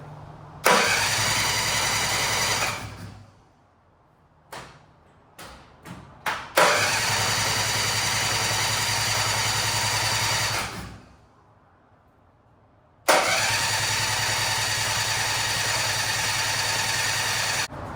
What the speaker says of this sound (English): No more smoke from the battery, which is great. But also no start from the motor.